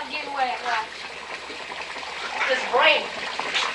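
Water runs from a tap into a sink during dishwashing, a continuous gushing and splashing with a few louder surges, while children's voices chatter over it.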